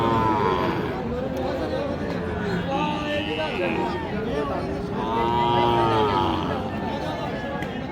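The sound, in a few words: cow mooing at cattle market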